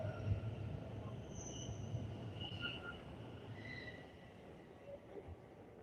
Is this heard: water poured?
no